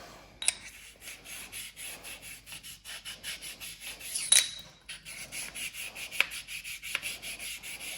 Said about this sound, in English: So this is a Norton slipstone, really fine. So just get a little bit of WD just to lubricate it.